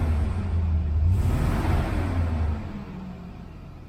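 C3 Corvette engine idling roughly close by, a low uneven rumble that sags and stutters partway through, then settles at a quieter level.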